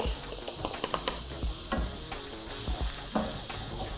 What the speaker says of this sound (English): There's always something magical about onion and garlic sizzling on the stovetop.